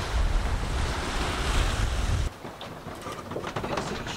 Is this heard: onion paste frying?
no